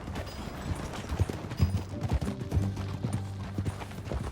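Horse hooves clop in a steady, rhythmic trot in the video game Red Dead Redemption 2, close and distinct, over a low background rumble.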